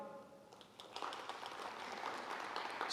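An audience gives a brief burst of applause that starts quietly and swells over a few seconds, fairly faint and distant.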